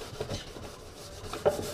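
Hand sanding an iPad dash part before painting: a soft, rhythmic rasping rub of abrasive across the surface, repeated back and forth, close and moderately quiet.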